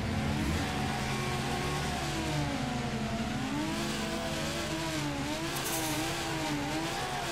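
Nissan S15 drift car engine revving in Torque Drift, loud and continuous with wavering, oscillating pitch as the throttle is worked through a drift, close and unbroken for several seconds.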